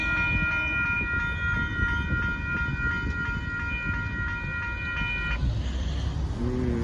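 A northbound Union Pacific mixed freight train with a trailing locomotive rumbles steadily past at a road crossing, its wheels a broad continuous roar as a sustained multi-tone horn sounds.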